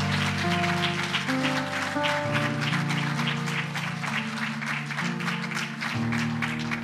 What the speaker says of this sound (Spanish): Denle un aplauso fuerte al Señor por eso.